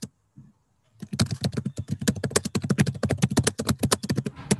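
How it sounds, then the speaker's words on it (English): Rapid, uneven clacking of keys, struck hard and fast in a dense burst after a brief pause, close to the mic. "furiously pounding the keyboard"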